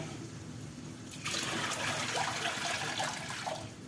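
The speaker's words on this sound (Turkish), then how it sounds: "şimdi patlıcanımı bir daha yıkayayım da" Eggplant washed under a running kitchen tap: a steady low background gives way to a loud, continuous gush and splash of water with small shifts as the vegetable is turned, close by and without talk.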